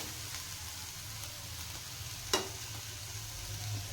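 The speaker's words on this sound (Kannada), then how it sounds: "ಈ ಥರ ಚಂದ ಹುರ್ಕೊಳ್ಳೋಣ್ರಿ" Ridge gourd peel frying in oil for chutney gives a steady, close sizzle with a soft hiss throughout and a single sharp click or pop about halfway through.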